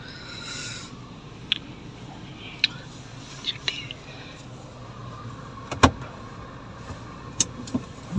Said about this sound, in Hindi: गाड़ी थोड़ी गर्म हो जाए यार।